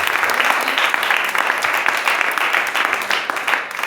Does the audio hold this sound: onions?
no